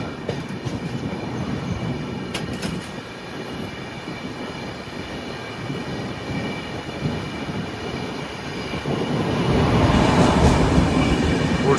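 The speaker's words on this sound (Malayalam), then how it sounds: "നമുക്കൊരു പഴയ ഒരു ട്രെയിൻ വരുന്നുണ്ട്." An electric goods train passes alongside a moving passenger train, a loud, continuous rumble and rattle that swells and grows heavier toward the end, with no voices.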